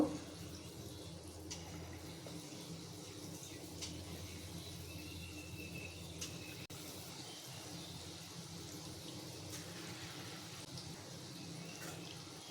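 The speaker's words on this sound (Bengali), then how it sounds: "তেল গরম হয়ে গেছে, এখন বড়াগুলো দিয়ে দেব।" Jackfruit fritters frying in hot oil make a steady, soft sizzle and crackle throughout, quiet and continuous with a few faint pops.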